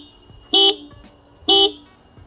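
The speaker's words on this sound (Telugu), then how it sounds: "సో చాలా లౌడ్ హార్న్ ప్రొవైడ్ చేస్తున్నారు." Two loud, evenly spaced blasts from the horn of a 2025 TVS Apache RTR 200 4V motorcycle, each short and bright, sounded close up with quiet between them.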